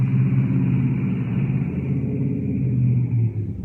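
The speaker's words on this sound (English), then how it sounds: "I'll let this car go by." A car passes close by outdoors, a steady low engine rumble and road noise holding at full strength for several seconds before easing slightly at the end, with no talk.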